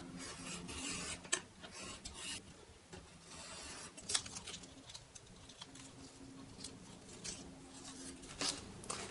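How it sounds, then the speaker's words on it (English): Scissors or a blade cut through a paper drawing of a synthesizer front panel, giving soft close rasping and rubbing strokes with occasional sharper snips and no talk. "we can cut out our drawing of the front panel and get it ready for marking"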